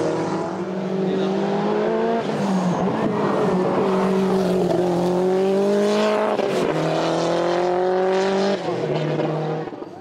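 A Scora Type 2 rally car racing up a hillclimb, its engine loud and close, revving up through the gears in rising pitch sweeps with brief shift dips and some tire noise.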